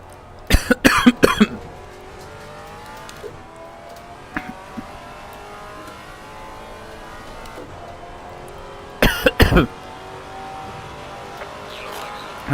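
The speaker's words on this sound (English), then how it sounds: "the coughing started again" A person coughing in two sharp bursts of several coughs each, with a few faint single coughs between them, over a quiet low engine hum from a racing simulator.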